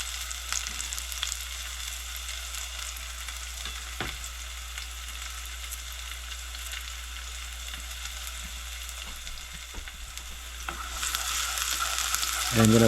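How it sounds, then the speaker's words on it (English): Diced onions frying in hot oil in a pan during an off-grid cooking session, a steady close sizzle with occasional stirring clicks, growing louder and busier near the end. "So I diced up my onions. I'm going to throw them in the hot oil."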